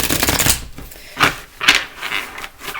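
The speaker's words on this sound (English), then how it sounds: "I'm going to shuffle up this deck" A deck of tarot cards being shuffled up close, with a riffling burst at the start followed by several short, separate shuffling flurries and soft card handling between them.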